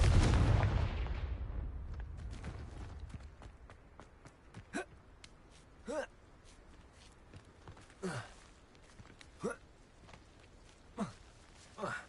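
Confringo blasting spells in Hogwarts Legacy go off as a series of sharp bursts, spaced a second or two apart, after a loud rumbling opening that fades away.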